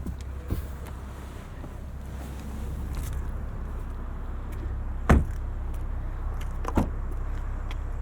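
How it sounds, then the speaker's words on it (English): A 2023 BMW M340i xDrive trunk lid unlatches and pops up by itself, giving two sharp thunks a little over a second apart against a low, steady background hum. "Trunk pops up on its own."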